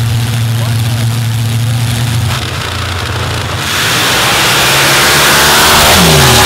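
A supercharged drag racing car running nitrous into the blower, Nightmare 6, rumbles loudly at the Gore Springs drag racing event, then roars into a rising full-throttle launch that builds and stays loud.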